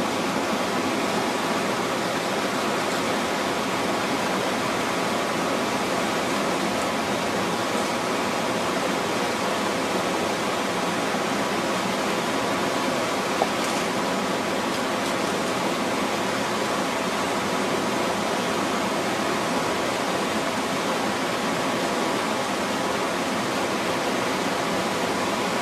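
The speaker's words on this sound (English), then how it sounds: "Here we are taking a look at the fast moving water coming down" Fast-flowing river water rushes steadily through a gold-prospecting sluice box and over its riffles, a loud, continuous broadband roar with no pauses and no voices.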